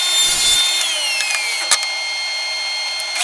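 Power saw whining steadily through a wooden board in a workshop, a continuous high-pitched cut with a brief knock partway through, close and loud.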